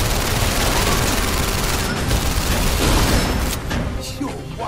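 Dense, loud gunfire from the London Heist PSVR video game rings out almost without pause, a continuous fusillade that eases slightly near the end.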